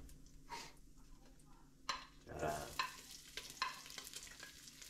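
Garlic heats in a hot pan with a sizzling fry and a few sharp stirring scrapes, a voice talking intermittently over it.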